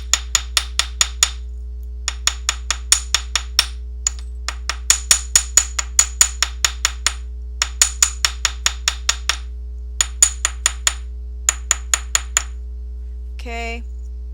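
A chasing hammer strikes 18 gauge metal in quick bursts of sharp, ringing taps, with brief pauses between the runs, close and clear over a low steady hum.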